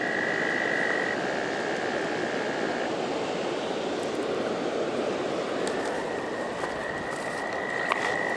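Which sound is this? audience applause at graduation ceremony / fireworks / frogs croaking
frogs croaking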